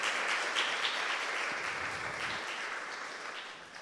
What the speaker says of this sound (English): let's have a round of applause for today's guests